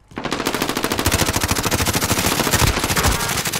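Rapid automatic gunfire rattles on without a break in a video game, a loud, dense burst of shots that runs through the whole stretch with no speech.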